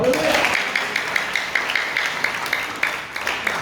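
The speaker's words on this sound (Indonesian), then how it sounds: "Tepuk tangan Bapak Ibu." A church congregation applauds during a sermon, a steady rhythmic clapping at moderate level after a brief voice at the start.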